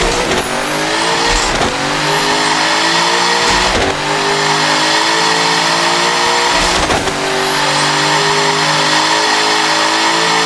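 A 3000 HP LSX turbo GMC Suburban in Assetto Corsa roars loudly and continuously, revving up through repeated gear changes with brief dips between pulls and a faint tire squeal.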